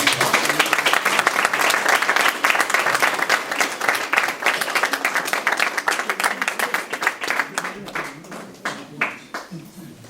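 Audience applause after a speech at a Leonese-language event: dense, loud clapping from a crowd that holds steady and then thins into scattered claps near the end.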